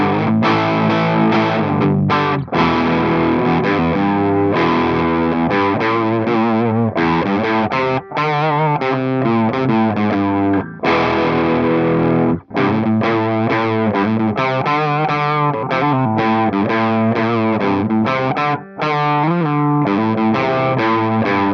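Electric guitar played through a germanium fuzz distortion pedal, thick saturated chords and riffs running continuously with brief gaps, loud and close, no speech.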